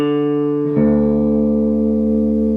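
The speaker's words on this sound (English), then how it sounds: "So you can match it to the open 4th string, and you hear this sound." Two low guitar strings ring together as the low string, tuned down to D, is matched to the open fourth string, producing a sustained steady tone that shifts slightly partway through.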